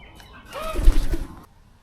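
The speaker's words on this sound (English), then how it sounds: "White parrot." A white parrot, probably a cockatoo, calls once with a short burst of harsh, slightly nasal tone at a moderate distance, heard in the Australian bush during a morning on a cross-country cycling ride.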